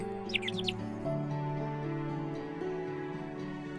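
A few quick, high bird chirps sound near the start over a soft, sustained musical backdrop in the hidden-object video game Hidden Through Time.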